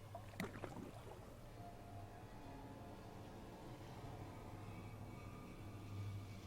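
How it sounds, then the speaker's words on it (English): A canoe paddle dips into the water with a soft splash near the start, followed by quiet lapping and a low, steady rumble. "Paddle dip."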